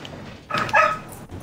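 A dog lets out a single short, loud bark close by, with a faint whimpering edge and quiet background around it.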